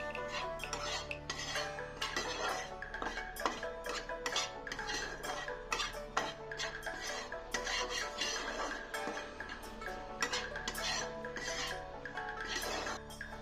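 Spoon stirring chopped tomato with spices in a pan while cooking a zero-oil jackfruit seed dish: busy, continuous scraping and metallic clinking against cookware, close and steady, with no talking.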